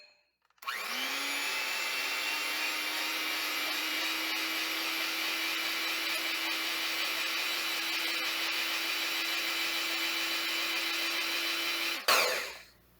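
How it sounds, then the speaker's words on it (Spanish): Egg whites whipped with an electric hand mixer in a clean bowl for a Japanese soufflé pancake batter, a steady high whirring motor drone running continuously for about eleven seconds before switching off, alone without talk. "Y vamos a batir con la batidora."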